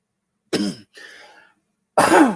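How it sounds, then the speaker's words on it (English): A close, loud cough from a man, followed by a softer raspy breath and then a second strong cough, dry and clipped, with silence between. "Still got a little cough going on"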